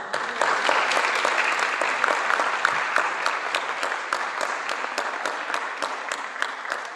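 An audience at a Portuguese presentation event bursts into sustained applause, dense crisp clapping holding a fairly even level and thinning slightly toward the end, with sharp individual claps standing out.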